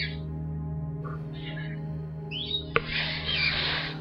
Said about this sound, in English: Damn bird singing.